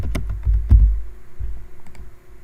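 Typing on a computer keyboard while entering data into a spreadsheet cell, a close sequence of irregular clicks and key taps with brief pauses between bursts.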